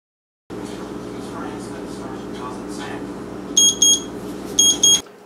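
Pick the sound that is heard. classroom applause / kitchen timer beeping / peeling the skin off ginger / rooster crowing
kitchen timer beeping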